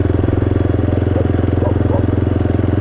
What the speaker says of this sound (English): when I did add the exhaust, I was like, oh dude, this bike sounds badass.